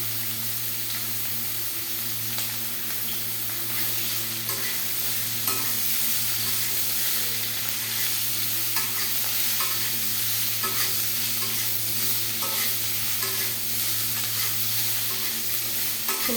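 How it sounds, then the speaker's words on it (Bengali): Cauliflower frying in a pan, a continuous close sizzle with repeated stirring scrapes and clinks throughout, steady and fairly loud. "ফুলকপিটাও এইভাবে লাল লাল করে একটু ভেজে নেব"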